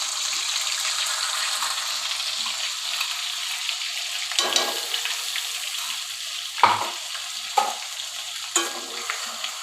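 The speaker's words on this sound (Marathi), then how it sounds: "तेल आपलं गरम झालेलं आहे, त्यामध्ये पेस्ट टाकून घेत आहे" Curry paste for a dhaba-style egg curry fries in hot oil with a close, bright sizzle, broken by several sharp scraping strokes of a spatula against the pan.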